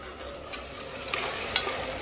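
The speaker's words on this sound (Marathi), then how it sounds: "तर टोमॅटो फ्राय होतो," Tomatoes fry for veg dum biryani with a soft, even sizzle. Three brief stirring scrapes stand out above it, with no talking.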